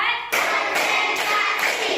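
A classroom of children claps together in a counted rhythm, four sharp group claps evenly spaced about half a second apart, with a voice counting between them.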